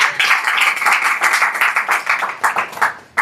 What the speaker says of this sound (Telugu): గట్టి కొట్టు చప్పట్లు.